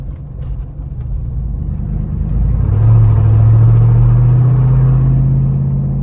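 A Jeep Rubicon 392 or Ford Bronco Raptor towing a trailer through a tight curve: a steady, loud engine rumble from inside the cabin that swells slightly midway and holds, with no talking.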